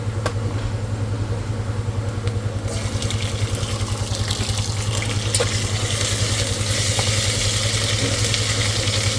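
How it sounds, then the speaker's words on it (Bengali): Curry frying in a pan with ginger-garlic paste, giving a steady, continuous sizzle under a low background hum. "তারপরে তো তরকারিটা ভালো করে কষায় নেই আদা রসুন বাটা"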